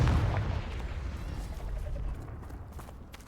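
A Confringo fire spell explosion in Hogwarts Legacy, a deep low boom at the start that rumbles and fades over a few seconds.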